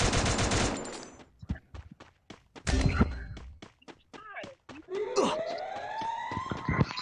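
In the Free Fire video game, rapid bursts of gunfire crack out in quick succession along with single shots, while a siren-like game effect wails and players talk throughout.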